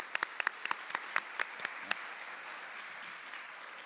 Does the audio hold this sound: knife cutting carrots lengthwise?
no